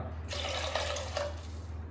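Tap water runs steadily into a bowl, filling it for a sweet broken-wheat lapsi, a continuous close splashing stream with no talk.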